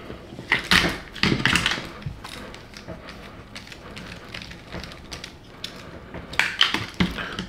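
Small parts being screwed onto a VS4-10 RC crawler chassis while the axle links and upper control arm go on, giving dense clicking, ratcheting mechanical rattles and scrapes close up throughout, with no talking.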